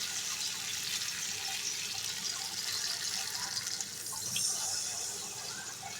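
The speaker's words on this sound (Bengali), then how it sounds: "এবার আমি জল দিয়ে দেবো।" Water poured from a cup into a pan of sautéed potatoes and pointed gourd for a Bengali dalna, a steady hissing splash that runs continuously for several seconds with no talking.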